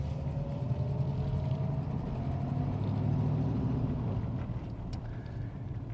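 A 1979 Pontiac Trans Am rolls smoothly through a slow cul-de-sac turn, its steady engine rumble and road noise heard from inside the car, with no talk.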